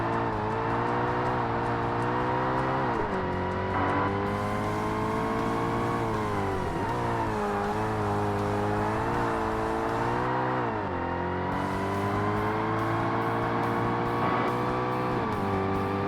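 A race car engine in Forza Motorsport on Xbox, 2005, drones steadily and loudly through a lap, its pitch rising and dipping with each shift and lift, close and continuous with no talking.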